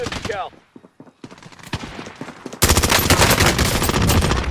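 Rapid bursts of automatic gunfire in the Call of Duty Warzone video game, starting with scattered shots and then a sustained, loud fusillade that fills the second half.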